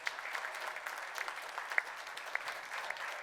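A church congregation applauds during a sermon. The clapping is moderately distant and steady, with a few sharper claps standing out for several seconds.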